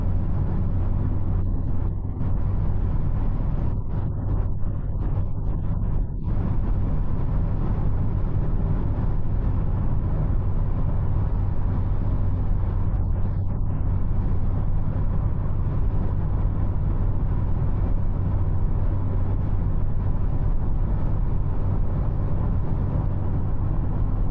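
A 2025 Mazda MX-5 cruising on the highway at over 110 km/h, a constant low engine drone mixed with broad wind and road roar, steady and loud throughout with no talk.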